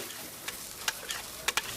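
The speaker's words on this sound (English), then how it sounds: "this cheesesteak is so freshly grilled, you can still hear it sizzling." A freshly grilled cheesesteak sizzling on a grill, a soft steady hiss punctuated by a few sharp ticks and spatula clicks, close and fairly quiet.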